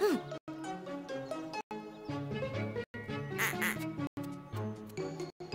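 Duck quacking in a rapid string of nasal calls separated by brief silences, close and clear with a musical backing beneath.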